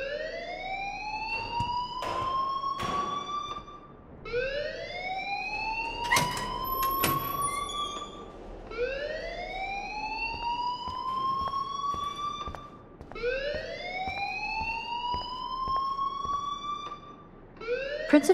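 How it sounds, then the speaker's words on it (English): An electronic alarm in the video game Life Is Strange wails in rising sweeps, about five long whooping cycles repeating steadily and loud, with no talk over it. "please turn off that alarm since that's your job."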